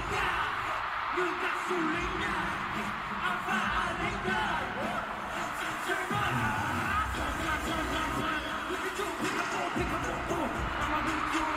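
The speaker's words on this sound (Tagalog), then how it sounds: "Grabe ang ingay, no? Grabe sigawan ng mga 18." A big concert crowd screaming and cheering, a steady dense roar that fills the whole stretch. Nearer voices talk over it now and then.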